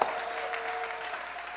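A church congregation answers a call for cheers with a brief burst of applause, dense clapping that starts sharply and holds steady with a faint tone underneath.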